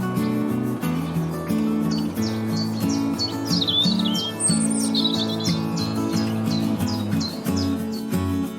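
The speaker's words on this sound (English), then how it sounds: "I'm Ruby, the radiant robin" A robin sings a bright run of chirps and trills over a cheerful children's music backing, the bird notes high and clear across the middle of the passage.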